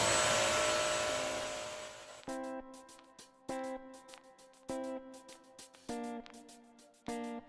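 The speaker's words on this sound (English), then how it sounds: "So now let's see how is this mop and vac will work on this." A Eureka Forbes Mop n Vac vacuum cleaner roars, then its motor winds down and fades. A series of clear, melodic electronic beeps follows in short groups.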